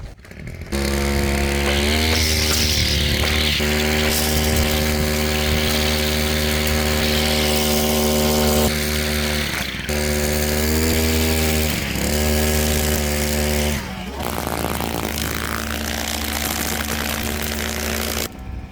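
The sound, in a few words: brush cutter with trimmer line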